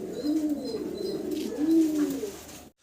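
Two female pigeons give soft, throaty coos, two rolling phrases close by with faint chirps above them.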